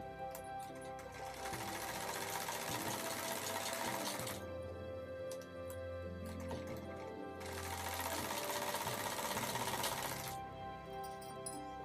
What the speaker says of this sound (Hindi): अब हम शोल्डर की सिलाई लगा लेंगे इस तरह से, आगे पीछे के दोनों शोल्डरों को इस तरह से जोड़ते हुए।